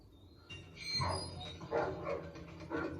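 In a Game of Thrones episode, a dog gives a short series of barks and yips, about three bursts spread across a few seconds, moderately close and fairly faint, with no talking.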